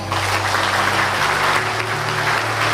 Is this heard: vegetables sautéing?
no